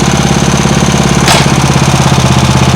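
A lawn mower engine drives a homemade outboard motor, running loud and close with a rapid steady chugging rhythm and a brief sharp hiss partway through.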